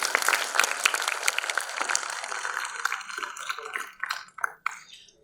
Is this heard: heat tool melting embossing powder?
no